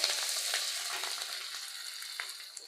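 Ginger and green chilies frying in oil in a pan for a lake fish curry, a steady close sizzle with faint stirring scrapes and no talk.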